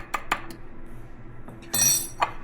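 Homemade yogurt being stirred and broken up with a spoon in a container, giving a few sharp clinks and scrapes of utensil against the vessel, close and clear with a brief rattling burst near the end.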